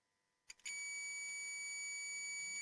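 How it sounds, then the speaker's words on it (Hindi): A digital multimeter sounds its continuity beep while testing a coil: a couple of short clicks, then a steady, piercing high-pitched tone that holds on continuously. "देखिए मेरे को बीप भी मिल रही है"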